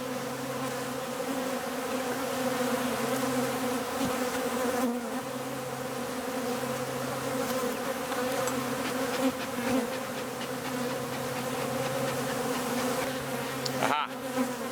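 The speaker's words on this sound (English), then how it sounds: "I do believe that the bees are actually beginning to swarm as we speak." A swarm of honey bees drones in a dense, continuous buzz heard up close, with many wingbeats layered together and no letup.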